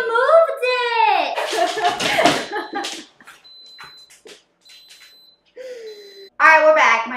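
An Instant Pot electric pressure cooker beeps while cooking beef sinigang, a few short high-pitched tones sounding between bursts of talking, with people speaking loudly before and after.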